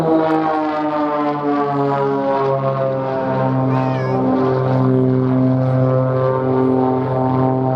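Propeller-driven aircraft performing a barrel roll at the Duxford air show, a loud, sustained droning engine with strongly harmonic, slowly shifting pitch that swells and holds steady throughout, close and continuous with no talk.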